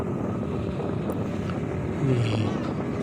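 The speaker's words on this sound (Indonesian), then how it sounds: "Wah, anginnya kenceng banget anginnya." Strong wind blows at an outdoor ondel-ondel Betawi street performance in Andara, producing a constant low rumble that buffets the microphone, with faint sounds from the surroundings mixed in.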